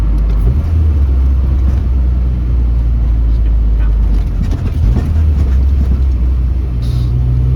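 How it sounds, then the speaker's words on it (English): A V6 hot rod truck drives on a bumpy Indiana road in winter, its steady low engine rumble loud and continuous from a close in-cabin position, with occasional thumps from the uneven surface. "it's a V6 truck, and it sounds pretty good"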